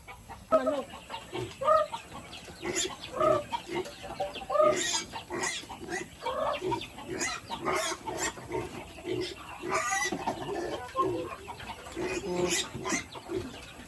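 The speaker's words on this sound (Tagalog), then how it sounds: "Manok." Chickens cluck and squawk around a small farm coop, several close birds calling in irregular bursts throughout with a busy, lively farmyard feel.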